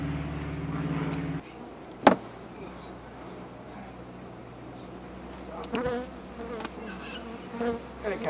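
Honeybees hum around an open hive with a bad queen, a soft constant buzz with individual bees droning close by. A sharp knock stands out early, and faint movement noises are heard over the swarm.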